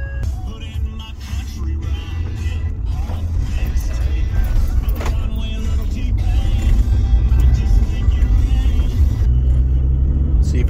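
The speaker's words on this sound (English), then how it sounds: "I get to drive dump truck all day." A dump truck drives on a hot day, its engine a steady loud low rumble with road noise throughout, building slightly over time, with a brief voice heard under it.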